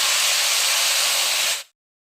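Chopped onion, bitter gourd seeds and spices hit hot oil in a pan, giving a loud, close burst of steady sizzling that cuts off abruptly after about a second and a half.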